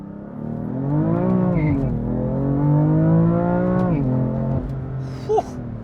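A BMW M3 CS accelerates hard, its engine note climbing steadily through the gears with brief shift dips and a faint tire chirp near the end, loud and close with no talking.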